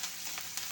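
Curry leaves and green chillies sizzle in hot oil for a chicken curry, a steady bright frying crackle with a few slightly louder pops, close up and with no voices.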